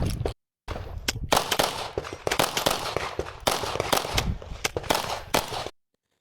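Rapid volleys of sharp gunshots at a practical shooting competition stage on an Alcatraz-themed course, loud and closely spaced in bursts with brief pauses, without talk.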